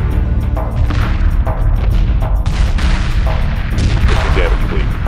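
Weapon fire in a space battle in Homeworld 2, dense and continuous with overlapping booms and blasts under a steady roar, loud and close, with radio-style voices speaking over it.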